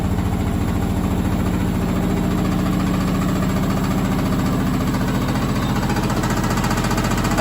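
A Candy SmartTouch washing machine thumps hard and rhythmically through an extreme unbalanced final spin, a rapid, loud, continuous pounding vibration close by with no talk.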